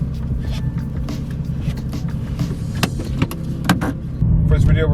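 A straight-piped BMW M4 F82 idles in comfort mode, its exhaust a low, steady rumble under scattered clicks and handling noises, swelling into a deeper, louder drone near the end.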